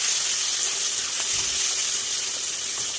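Spice paste for an egg curry sizzles and hisses steadily in a hot pan, a dense, even frying crackle that fills the whole stretch with only faint stirring scrapes beneath.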